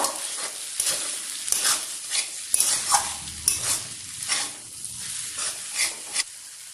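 Egg chowmein noodles tossed and stirred in a hot pan with soy sauce, a steady sizzle broken by repeated scraping strokes of a spatula, close and fairly loud, with no talking.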